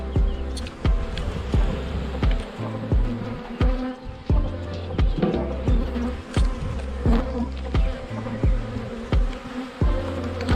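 Honeybees being handled for queen rearing buzz loudly and close, with a dense, steady hum and repeated sharp knocks and bumps from the equipment at irregular intervals.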